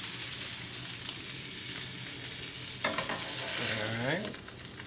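Salisbury steaks fry in a pan with a steady, loud, broadband sizzle that runs the whole time, and a brief scraping or stirring sound cuts in near the end.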